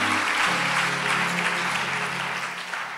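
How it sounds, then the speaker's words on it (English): A church congregation applauds together in broad, steady clapping that fills the space, with a low murmur and hum beneath it, fading slightly toward the end. "Let us clap for him."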